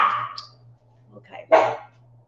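A dog barking indoors: a couple of short barks with a low hum underneath, heard at moderate distance.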